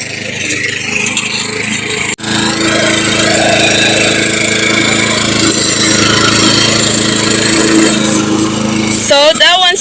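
A mower cuts tall grass around a tree on a rural property, a loud continuous engine drone with shifting grinding texture throughout and a brief dropout partway through.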